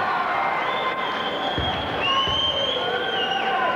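Basketball crowd at an under-19 national cup final reacting as a player returns to the court, a continuous mix of cheering voices and shouts with scattered clapping and whistle-like tones beneath.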